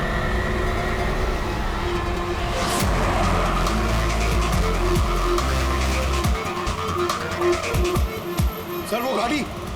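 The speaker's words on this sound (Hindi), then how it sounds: "सर वो गाड़ी" A car drives hard with squealing, skidding tyres and a roaring engine, loud and close throughout, with voices shouting over it.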